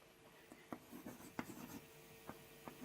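Chalk or marker writing on a board during a botany class, a series of short scratchy strokes and taps at an irregular rhythm, close and fairly quiet, with no one talking.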